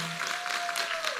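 An audience at an Islamic sermon event claps for the organizers, a dense, steady round of applause from a crowd filling the whole brief moment, with a sustained tone underneath.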